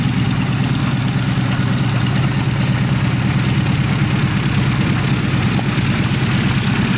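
An Air Disco V8 aircraft engine, a reconditioned World War I era V8, runs at an airfield with a loud, steady low throbbing drone. It holds constant for the whole stretch, with no voices over it.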